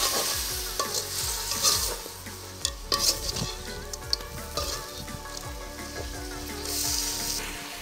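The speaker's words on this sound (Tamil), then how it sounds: "போட்டு ஒரு கிளறு விடுவோம்." A spoon stirring fish and brinjal curry with coconut milk in a pan, scraping and clinking steadily over a constant sizzle of frying, loud and close, with no talk.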